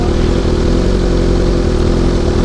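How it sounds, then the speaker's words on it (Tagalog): A big bike motorcycle engine drones loud and steady from close by, a continuous mid-pitched hum with a firm low throb and no speech over it. "malakas talaga yung motor ma'am kasi malaki yung ano na ito, makina"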